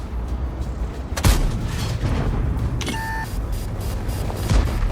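Artillery shell striking a tank in a tank battle game, a sudden loud boom and crunch over constant engine rumble, followed by beeping interface tones and another dull impact.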